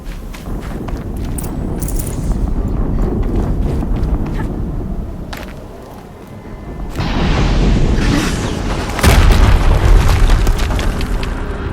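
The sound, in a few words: explosion in the video game Horizon Zero Dawn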